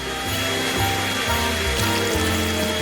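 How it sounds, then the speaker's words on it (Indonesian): A hair dryer blows hot air in a steady, loud, continuous roar with a low motor hum throughout, used to melt something frozen. "aku bisa mencairkannya dengan udara panas dari pengering rambut"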